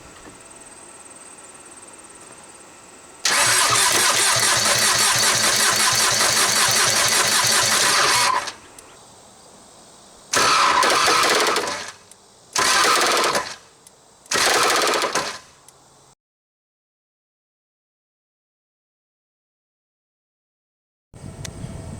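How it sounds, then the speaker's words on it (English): A TDI diesel engine swapped into a Jeep Wrangler cranks loudly with a rapid chugging starter rhythm for several seconds, then gives three shorter cranking bursts before falling silent, with a faint restart at the end. "I just want to see if it cranks, and if it cranks, I want to try to start it"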